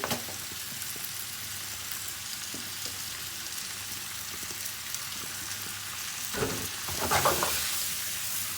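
Chopped tomato hits a hot frying pan of spicy Mexican vegetables, giving a steady close hiss of sizzling that flares into a louder, sputtering burst near the end.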